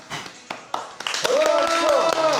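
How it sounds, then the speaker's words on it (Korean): Guests at a company's 23rd anniversary ceremony stand and clap in scattered, uneven bursts, with voices talking loudly over the clapping. "우리 다 같이 일어나서 박수!"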